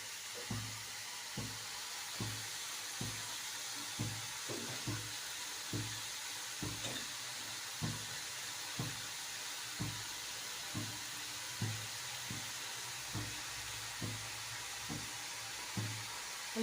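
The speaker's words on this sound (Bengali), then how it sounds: "মূলাটা ভেজে নিব, ভেজে নিলে মূলার স্বাদটা ভিন্ন আসবে" Radish frying in a pan over a stove, a steady broadband hiss with soft regular ticks roughly every second, moderately quiet and with no voices.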